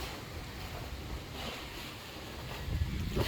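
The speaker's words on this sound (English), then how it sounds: "A lot of wind." Strong wind at a beach by a house under construction, a constant rushing roar buffeting the microphone, growing heavier and more gusty toward the end.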